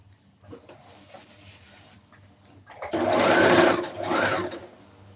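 A sewing machine stitches pleats into a wedding dress, with two loud, steady runs of motor whir after a quieter stretch of handling noise.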